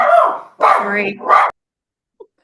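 A tiny dog barks loudly and close by in a few sharp, voiced yaps over about a second and a half, then stops, leaving near silence with faint clicks.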